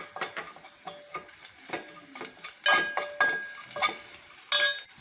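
Asafoetida, turmeric and red chilli powder sizzle in hot oil as a spoon stirs and clinks against the pan, giving bursts of frying crackle with repeated metallic scrapes, close and clear with no talk.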